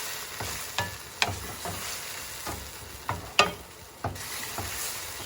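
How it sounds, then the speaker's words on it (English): Stirring basil into a seafood pasta primavera sauce in a pan over a low flame: a steady close sizzle with repeated sharp scraping clacks of a utensil against the pan, roughly every half second, with no talking. "Stir that around."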